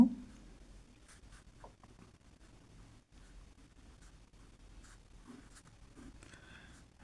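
Hand writing on paper while working a binary-to-decimal conversion answer, a soft continuous scratchy pen or chalk stroke texture with brief pauses, faint and close, no talking.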